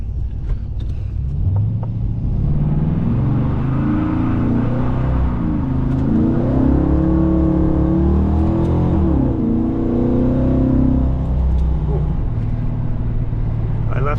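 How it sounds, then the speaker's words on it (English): Pontiac car doing a burnout, its engine revving loud and steady with a deep rumbling drone that rises and falls in pitch, rubber on pavement, close by with no talking. "burnout time"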